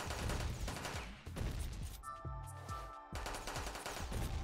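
Rapid machine gun fire from a dog-themed bullet-hell game, Metal Dogs, a dense stream of quick shots with a short pause of ringing electronic tones before the firing resumes.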